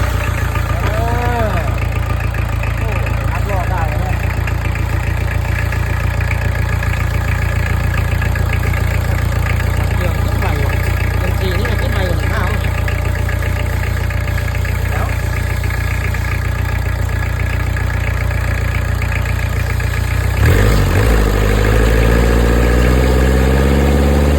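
A Kubota V1405 four-cylinder 30 hp diesel engine idling, a loud, steady, even close rumble throughout with a brief change near the end, no voices.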